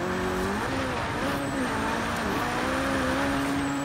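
Abarth Fiat 131 rally car in Forza Horizon 3, its engine droning loud and steady with the revs rising and falling through gear changes, up close and almost free of talk.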